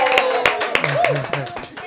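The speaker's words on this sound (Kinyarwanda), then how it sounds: "Amashyi menshi cyane ku mpano nziza." A small group claps for a gift at a birthday gathering, the sharp hand claps coming close and irregular while voices talk over them.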